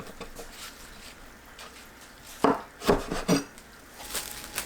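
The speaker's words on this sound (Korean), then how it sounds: "씻은 깻잎은 꼭지와 끝부분을 자릅니다" A knife chops through the stems and tips of washed perilla leaves on a cutting board, three or four sharp close knocks clustered together over a quiet background, followed by softer taps.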